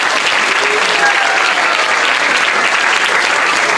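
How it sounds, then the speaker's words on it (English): Steady, dense applause from an audience honoring children who performed a drama for the appearance day of Lord Balarama, holding an even level throughout without any speech. "So please give them a big round of applause and encouragement."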